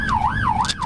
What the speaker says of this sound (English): The wail of sirens, the rush to respond.